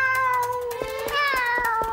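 A cartoon cat gives a drawn-out, wavering meow, close and clear, over sparse clicking background sounds.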